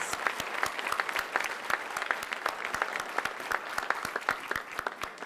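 Applause from a banquet audience at a hall of fame dinner honoring student athletes, sustained and fairly even, individual claps standing out close by over a broad wash of hands.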